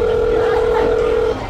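A telephone tone sounds while someone calls a company to turn down a job offer: one steady, loud electronic tone holds for just over a second, then cuts off.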